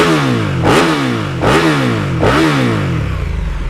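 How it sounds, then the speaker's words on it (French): A KTM Superduke 1290 R motorcycle engine revs hard three times in quick succession, each rev climbing fast to a loud, harsh peak and dropping back, close and alone. "Oh, elle monte très vite dans les tours."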